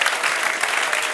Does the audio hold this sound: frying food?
no